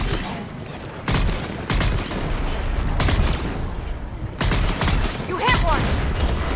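Rapid, continuous gunfire crackles through a Mass Effect 3 firefight, heavy bursts repeating close by, while voices shout over the shooting.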